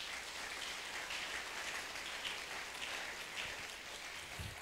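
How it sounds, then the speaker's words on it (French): A church congregation applauds loudly and steadily, a dense wash of clapping filling the whole stretch without pause, with no talking above it. "Acclamons très fort pour le Seigneur."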